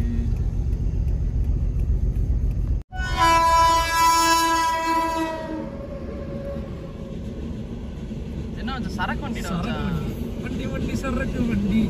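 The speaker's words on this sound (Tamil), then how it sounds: "இங்கே ட்ரெயின் வரப்போகுது" A train pulls into a railway station with a loud, continuous rumble, a long sustained horn blast, then the ongoing roll of wagons; a voice speaks over it.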